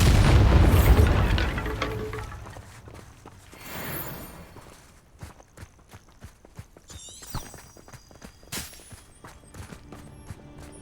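A Bombarda spell explosion in the video game Hogwarts Legacy: a loud, deep boom that rolls out and fades over a couple of seconds, followed by scattered footsteps and small clattering impacts.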